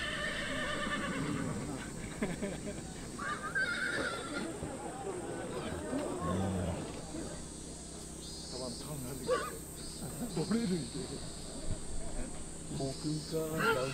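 Wild horses at the Soma Nomaoi festival in Japan whinny now and then amid a steady outdoor din of crowd noise and faint hoof sounds, with voices talking through it.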